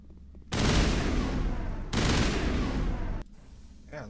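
Shotgun gunfire in a sci-fi video game, heard as two long loud roaring bursts of rapid fire back to back, then a cut to quieter game sound with a brief voice at the end.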